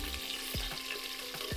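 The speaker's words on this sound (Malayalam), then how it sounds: "ഇതൊന്ന് നന്നായി ഒന്ന് വഴറ്റിയെടുക്കുക" Green chillies and ginger sautéing in hot oil in a cooker after cinnamon and cloves, giving a steady close sizzle with a few scraping stirs, no voices.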